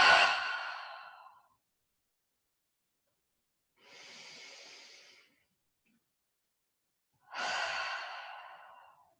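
Three slow, deep breaths during a hatha yoga flow: an audible sighing exhale, a softer inhale, then another full exhale, close and separated by silence.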